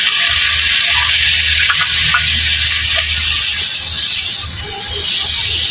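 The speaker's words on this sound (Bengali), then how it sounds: "ওই মশলাটাও দিয়ে মশলাটা আনাজ একসাথে কষিয়ে নেব" Vegetables and spice paste sizzle loudly in a pan under a constant close hiss, with a few faint scrapes of stirring and no speech.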